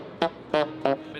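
Saxophone closed slap tongue with poor technique, three short percussive slapped notes spaced apart, close and fairly soft with no talking.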